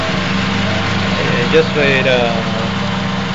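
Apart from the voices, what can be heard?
car engine idling on vaporizer fuel saver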